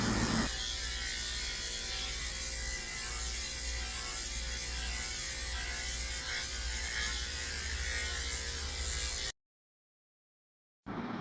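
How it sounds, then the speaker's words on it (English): Electric grooming clippers with a 5 blade shave a Labradoodle's coat, a steady close mechanical buzz running without pause for about nine seconds before cutting off abruptly. "I'm coming back down with my 5 blade to shave it."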